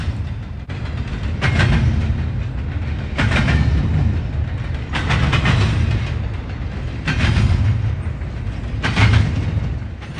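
A Norfolk Southern freight train with piggyback trailers rumbles loudly and close over a railroad diamond at Cordele, Georgia, with a steady roar broken by repeated heavy clacking bursts as wheels cross the junction.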